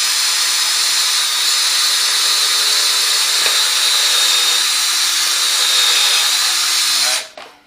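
A power drill boring into the wood of a small antique table during repair, a loud continuous whine held steady close to the mic for about seven seconds before cutting off abruptly.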